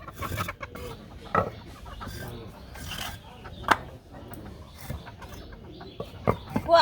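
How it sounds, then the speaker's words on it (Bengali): Chickens and ducks in a village yard cluck and squawk in scattered bursts nearby, mixed with rustling and occasional talk from people. "হাঁস মুরগি বেড়ে নিয়ে"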